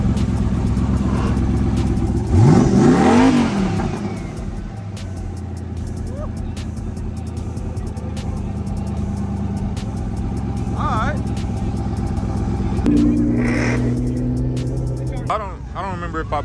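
A 1000hp Toyota Supra at a cars and coffee meet revs hard in a couple of loud bursts over a steady idle and crowd noise, with voices talking nearby.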